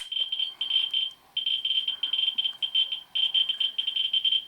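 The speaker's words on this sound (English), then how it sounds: "I'm going to cut the audio off on the detector because I think we've got the idea that that specimen is nice and hot" A radiation detector held near a uraninite pitchblende specimen sounds off with dense, irregular high beeps and chirps that bunch into rapid runs with brief gaps, close and clear.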